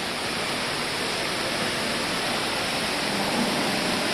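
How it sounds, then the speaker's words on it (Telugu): A small water fountain inside Ibn Battuta Mall, a steady close splashing rush of water that holds evenly throughout without any talk. "ఒక చిన్న వాటర్ ఫౌంటైన్ కూడా ఉంది ఇక్కడ."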